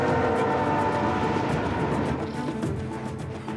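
A Canadian Pacific freight train passes close by in a loud, continuous rumble with dense rolling and rattling of rail cars and no letup.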